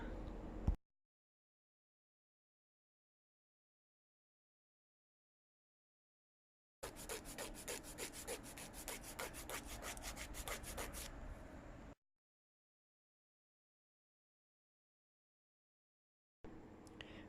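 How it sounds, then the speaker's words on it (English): Hand sanding with 200 grit sandpaper on the underside of a car's rear diffuser, a steady rhythmic scratchy rubbing of brisk back-and-forth strokes lasting about five seconds, close and alone between stretches of silence. "First I started with a 200 grit sanding paper with the hand to get to that deep marks and get those out."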